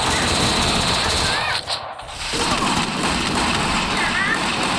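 Gunfire in the Free Fire battle royale game comes as a dense, continuous rattle of automatic shots that briefly drops off midway, loud and constant over the game's background noise.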